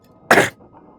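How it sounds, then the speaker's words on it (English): A single short, harsh cough close by, then quiet, from the video game Silent Hill 2 (2024). "You should really get that cough looked at."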